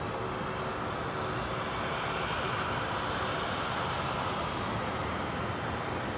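A Qantas airliner departing Brisbane International gives off a steady, loud broadband jet roar that continues without a break and with no speech.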